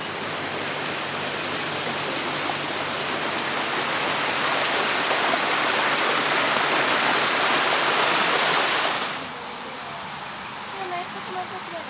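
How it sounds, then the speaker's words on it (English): Water rushes down a channel toward a water wheel in Jamaica, a loud, steady, close-up roar that cuts off abruptly near the end, leaving quieter ambient sound. "So much water is coming down to the wheel."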